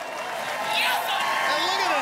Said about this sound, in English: The crowd erupting in support